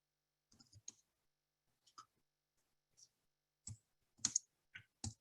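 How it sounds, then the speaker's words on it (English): Keys tapped on a computer keyboard during a weight loss surgery webinar, heard as sparse, quiet clicks in small irregular bursts with pauses between them, close and alone with no talk. "so I'm just typing this"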